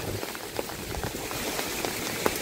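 Flood water rushes in a dense, churning wash, with splashes and gurgles breaking through the constant roar nearby.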